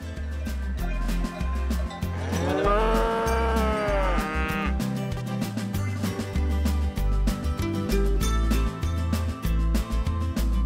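A Massanaise cow, a rare French cattle breed, lets out a long drawn-out moo lasting a couple of seconds over continuous background music.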